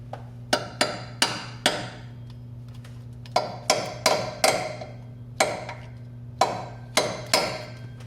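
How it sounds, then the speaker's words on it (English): Hammer taps seating the small mounts for a 2004 GMC Sierra alternator, in short clusters of sharp metallic strikes (three or four at a time) over a steady low engine-bay hum, close and clear with no talking. "I'm just going to use a hammer and just tap these little mounts right here in."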